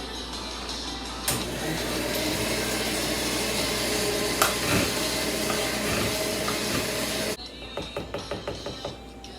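Cupcake batter with mashed bananas and yogurt is blended by a steady, loud mechanical whir that runs for about seven seconds. It then cuts off into a string of soft, rhythmic knocks and scrapes.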